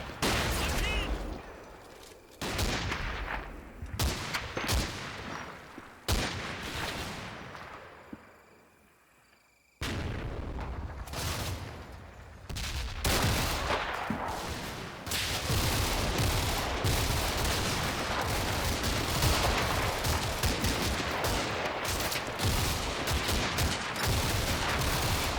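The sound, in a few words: mortar barrage in the Combat Mission: Fortress Italy video game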